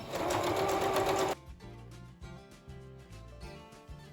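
A sewing machine topstitches a fabric clutch bag in one steady, close run of just over a second, followed by softer clicks and handling noises.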